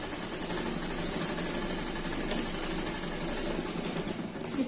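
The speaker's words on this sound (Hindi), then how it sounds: "इसको मैं इसके ऊपर रखूंगी और ऐसे सिलाई लगा दूंगी।" A sewing machine stitching buckram onto a kurti collar, a fast continuous mechanical whir and clatter running steadily throughout at moderate level.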